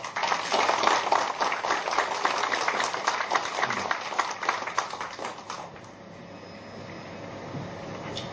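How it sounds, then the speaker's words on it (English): Audience applause at a Vietnamese community political gathering in California, a broad sustained round of clapping that fills the room for several seconds and then fades to a quiet hum. "Please give big applause for California State, for United States"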